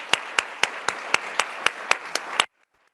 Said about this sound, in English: So I would just like to give the whole NTA staff a huge round of applause.